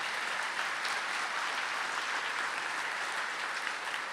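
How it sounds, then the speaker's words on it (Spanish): Steady applause from an audience at a presentation of a monument-collection book, as a speaker is invited onto the stage; dense, even clapping holds for several seconds with no voices over it. "Un fuerte aplauso para Luis Martín."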